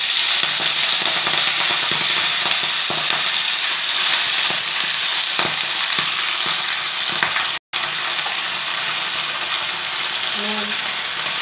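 Malabar spinach drops into hot oil with cumin, black cumin and green chillies, producing a loud, continuous close sizzle with scattered crackles and pops and one brief break.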